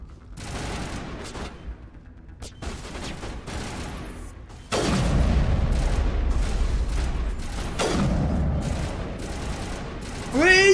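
Sniper rifle fire in Mass Effect Legendary Edition, sharp sparse shots with heavy booms amid combat noise and game effects, a voice occasionally speaking underneath.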